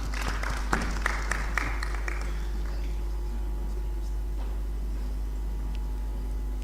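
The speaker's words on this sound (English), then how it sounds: "Ladies and gentlemen, with humility, I ask that you give them another round of applause." Audience applause for election candidates at a formal African Union leadership event, a brief burst of clapping at the start that quickly fades into a quiet, hollow room tone.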